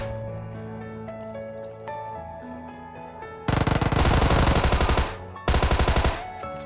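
Rapid bursts of automatic gunfire crackle loudly over a quieter PUBG Mobile soundscape, with two long sustained volleys separated by a brief pause.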